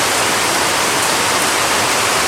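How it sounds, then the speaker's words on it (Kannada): Heavy rain pouring outdoors at the start of the monsoon, a dense unbroken wash of rainfall close by and loud, with no voices. "ಮಳೆ ಬರ್ತಾ ಉಂಟು ಜೋರಾಗಿ."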